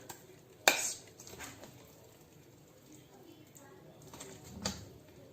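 Spinach chicken palak gosht being dished out into a serving dish: a sharp clink of a utensil against the dish, then softer scraping and a second faint clatter, with a quiet room in the background.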